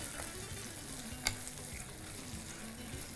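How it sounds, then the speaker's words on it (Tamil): Onions sautéing and being stirred in a pan for a Tamil home-style dish with cloves and fennel, a soft continuous sizzle with one sharp clink of a utensil partway through. "வெங்காயத்தை நல்லா வதக்கிறோம்."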